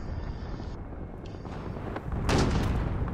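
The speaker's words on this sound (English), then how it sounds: "Allied cruise missile away" A cruise missile launches in Call of Duty: Modern Warfare, a deep rumbling boom swelling past the midpoint over a background of distant battle noise.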